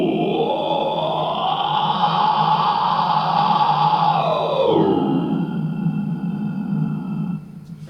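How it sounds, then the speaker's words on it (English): Inhale vocals performed into a cupped microphone, a sustained, loud, close, rough groaning tone that slides and fades out toward the end. "I instead like to do inhale vocals"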